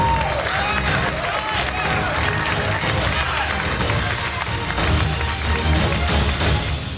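Home cooks cheering and applauding a contestant on the MasterChef set, a continuous wash of clapping and crowd noise that holds loud throughout, with voices mixed in.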